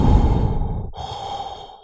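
A man imitates Darth Vader's breathing while drawing on a vape, two long, loud, hissing breaths, an inhale then an exhale, close to the mic with no words.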